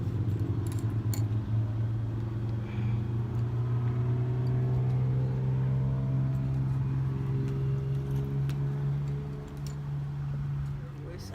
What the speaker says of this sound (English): That was the neighbor's car.